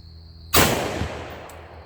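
A single loud 5.56 rifle shot strikes a 2-inch thick body armor plate outdoors, a sharp blast at about half a second followed by a long decaying rumble and echo, with no talking.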